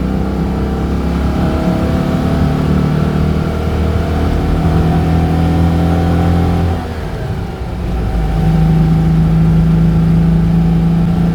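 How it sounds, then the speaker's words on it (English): Citroën 2CV car driving on snow, its small air-cooled engine droning loud and steady, revving up in pitch with a brief dip in power around the middle as the wheels spin, then climbing again. "A bit of wheel spin there."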